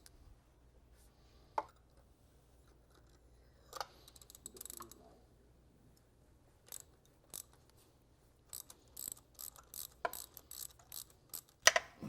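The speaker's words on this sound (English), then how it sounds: "Let's go ahead and remove the spark plug." A ratchet loosens a car spark plug, giving quiet, scattered bursts of clicking pawl sounds separated by pauses, close up in a hushed setting.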